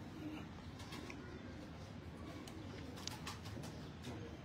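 Pigeons coo softly on a rooftop loft, low throaty murmuring under a steady faint background hum, with a few light clicks and rustles scattered through.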